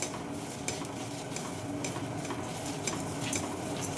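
Dried red chillies and black peppercorns roasting in a pan, a soft steady sizzle with light scraping and occasional ticks from stirring, close but fairly quiet, no voices.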